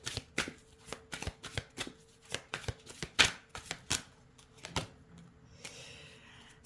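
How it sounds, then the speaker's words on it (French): Tarot cards being cut and shuffled by hand, a series of sharp crisp riffling snaps at an uneven rhythm, close and clear, with brief quiet gaps and no voice. "Alors, on va remettre une coupe,"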